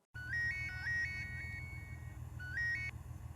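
An electronic phone ringtone plays a quick repeating melody of high beeps, pauses, then starts again over a low steady hum.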